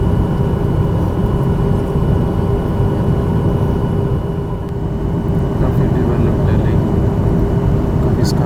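Inside the cabin of a Flydubai airliner shortly before landing, a loud, steady engine and air roar fills the whole clip, with some talk over it.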